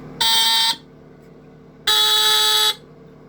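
A Hudson Mfg Co fire alarm sounds during a hair dryer test, two loud harsh buzzing blasts, each under a second long and separated by a pause, with low background hum between them.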